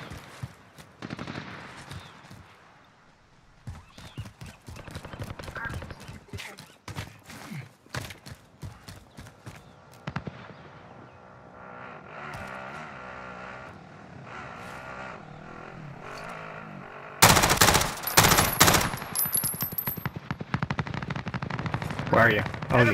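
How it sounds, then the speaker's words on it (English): Gunfire in a multiplayer shooter video game, bursts of rapid automatic fire and single shots scattered throughout, some near and some distant, mixed with game engine noise and players talking, growing louder and denser toward the end. "I hear shots behind me too."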